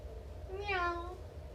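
A single drawn-out cat meow rises and falls, faint over a low background hum; it is likely a person's voice imitating a cat during a yoga class.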